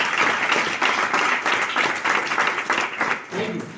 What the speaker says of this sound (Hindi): अगर दोनों के लिए एक बार जोरदार ताली होनी चाहिए।